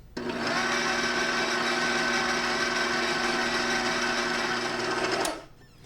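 An electric mixer beats Battenberg cake batter at a steady, moderate speed, a continuous close whirring hum that runs for about five seconds before cutting off abruptly.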